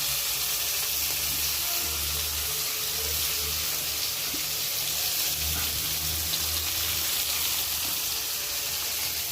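Chopped onion and tomato fry in a pan for a drumstick (murungaikai) fry, giving a steady close sizzle with some low bubbling throughout and no talk over it.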